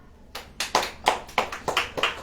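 A church congregation claps hands at a worship gathering, seven or eight sharp, fairly regular claps in quick succession after a short quiet start, with no talking.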